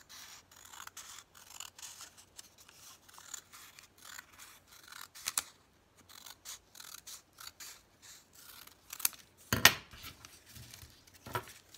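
Paper being trimmed with scissors while making a vintage carnival-themed junk journal: scattered, quiet snips and small rustles come in irregular bursts, with one sharper, louder cut near the end.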